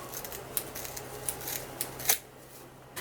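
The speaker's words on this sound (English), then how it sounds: "Just cut the deco mesh." Scissors snip through glittery deco mesh for a Christmas garland wreath, several quick crisp cuts close up with a louder final snip, no talking.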